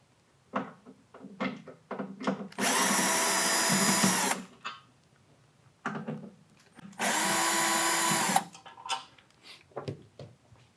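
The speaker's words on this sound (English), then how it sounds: "you'll remove the 4 flathead screws on either side of the grinder" A power drill runs in two sustained, loud bursts of a few seconds each, backing out the flathead screws on a Ditting KR1203/KR1403 coffee grinder, with quieter handling clicks and knocks before, between and after.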